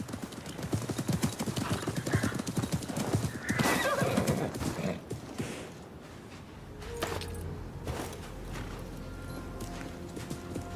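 In Assassin's Creed Mirage, a horse neighs and whinnies amid clip-clopping hooves, with a loud burst of movement early on, then quieter hoof steps and scattered ambient sounds.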